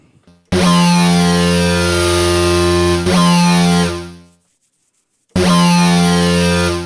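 A buzzy, harmonically rich synthesizer sync lead layered with white noise plays loud, sustained notes with sweeping overtones, cutting off into silence for about a second before the sound returns.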